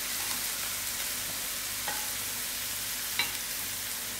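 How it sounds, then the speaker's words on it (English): Onions fry and brown in a pan with a steady, moderate sizzle, broken by a couple of brief scrapes from stirring. "Allow these onions to brown a little."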